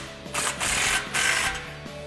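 A socket ratchet tightens a Roush exhaust clamp on a Mustang EcoBoost, giving several close, sharp bursts of rapid pawl clicking with short pauses between strokes.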